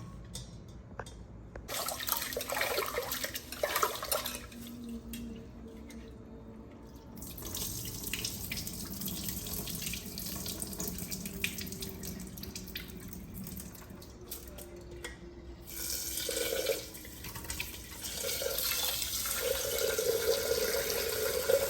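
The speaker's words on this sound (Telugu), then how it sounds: "ఈ రైస్ బాగా వాష్ చేసుకోవాలి." A tap runs continuously into a bowl of rice as the grains are washed, a steady close splashing hiss with swirling and sloshing shifts as the water and rice are stirred.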